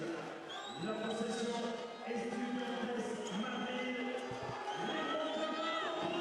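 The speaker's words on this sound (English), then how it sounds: "Crowd still not happy." Basketball arena crowd voicing displeasure during a Champions League game, a loud sustained mass of jeering and shouting in a big hall, with a commentator talking over it.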